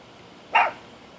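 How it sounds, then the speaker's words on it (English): A single short dog bark, fairly close, standing alone against a quiet background. "What's she barking at, baby?"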